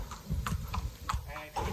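A filly walking at a horse sale, her hooves clip-clopping in a steady rhythm close by, with a voice talking over the footfalls.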